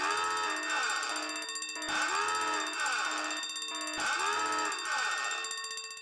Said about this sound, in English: Alarms, bell ring for that one.